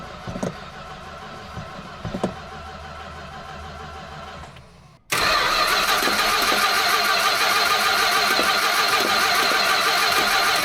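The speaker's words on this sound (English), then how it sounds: "let's go ahead and start her up" A 1967 Plymouth Fury VIP's engine cranks with a couple of loud starter bursts, then catches and settles into a steady, loud, full idle that continues alone for the rest of the clip.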